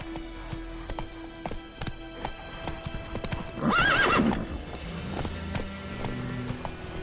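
Horse in The Witcher video game, a steady clip-clop of hooves throughout with a single loud neigh in the middle, over quiet ambient game music.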